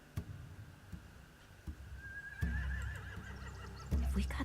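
Horses whinny in the video game The Walking Dead: The Final Season, with one drawn-out, wavering neigh standing out over soft thuds and quiet background ambience.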